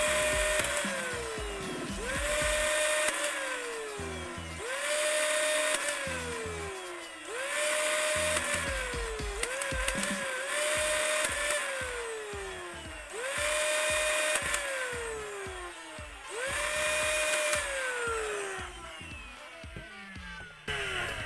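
A 3D-printed Nerf Hummingbird blaster with one warped flywheel fires darts through a chronograph. The motor whine spins up and winds down in about eight regular bursts, with rapid clattering thuds of darts during each burst.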